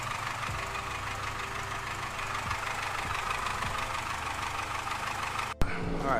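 Honda Civic engine idling through a loud test pipe exhaust, a steady rough rumble with a knocking texture, close and continuous, broken near the end by a sharp clunk.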